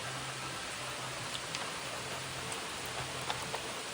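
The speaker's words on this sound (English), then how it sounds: "The rain has increased." Steady rain falling on the Appalachian Trail, a dense continuous hiss with scattered light drop ticks, even and moderately loud with no talk.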